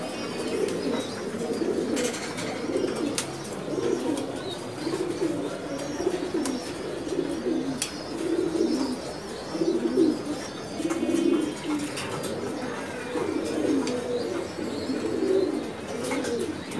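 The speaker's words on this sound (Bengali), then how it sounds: "এখানে বিডিংয়ে বসাইছে কবুতরগুলা, খুব সুন্দর সুন্দর গিরিবাজ কবুতর।" Giribaz pigeons in a breeding loft give steady low cooing with occasional wing flutters and faint chirps, a continuous murmur of several birds close by with no talk.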